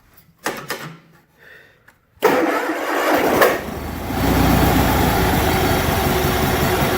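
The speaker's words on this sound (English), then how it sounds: "see if we can get this thing to fire up." A Cub Cadet 1811 lawn tractor fitted with a new carburetor gives a few clunks, then its engine abruptly catches and settles into a loud, steady rough idle that swells slightly partway through.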